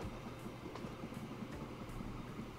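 An electric tram runs along track in the Train Fever video game, giving a quiet, steady rumble with faint rhythmic rail clicks and a soft electric hum, heard alone.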